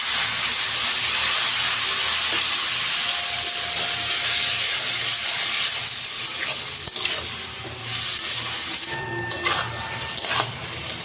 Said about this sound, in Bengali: এখন সামান্য একটু জল অ্যাড করব